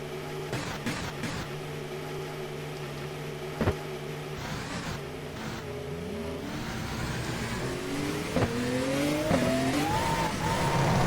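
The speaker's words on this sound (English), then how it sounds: "You'll notice different engine sounds for each car" A Formula 1 car engine in the rFactor racing game (WCP F1 2014 mod) whines and shifts pitch as it accelerates through gears, with brief bumps and a rising drone toward the end, synthetic and steady.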